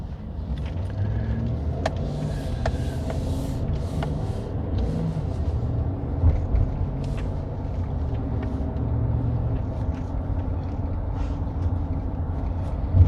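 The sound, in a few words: car driving along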